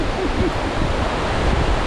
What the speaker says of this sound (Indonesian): Finally sampai juga di dasar air terjun Tumpak Sewu.